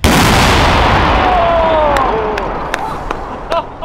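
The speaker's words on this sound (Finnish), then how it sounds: "Räjähdys oli valtava ja teki merkittävää tuhoa Pommi Citylle." A thermobaric fuel-air bomb goes off with a huge, loud blast right at the start that rolls and fades over several seconds, followed by scattered voices and cheers.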